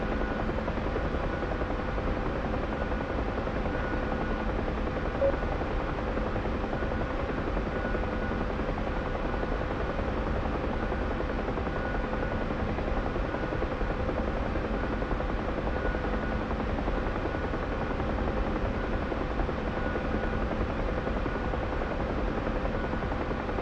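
A UH-1H helicopter's rotor and engine drone continuously at a steady pitch in a video game, close and unchanging, with a synthetic, game-like evenness and no voices.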